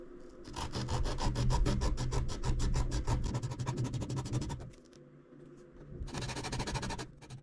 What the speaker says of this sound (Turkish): uygun ölçüye gelene kadar zımparayla inceltmeye çalışacağım